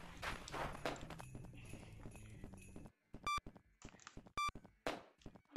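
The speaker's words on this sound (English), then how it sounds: "Oh God, I can already hear footsteps." Footsteps sound in the Gorilla Tag horror game, capuchin mode, as a string of thuds and knocks mixed with sharp clicks and tones, moderately loud and uneven, with no talking.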